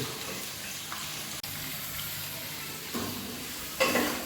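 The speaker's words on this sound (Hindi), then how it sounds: "प्याज जो है कभी भी हम डालें तो ऑयल गरम करके, तेज गरम करके डालें" Onions frying in hot oil for beef biryani, a steady broadband sizzle with a brief stirring scrape and a louder burst of hiss near the end, close and without talk.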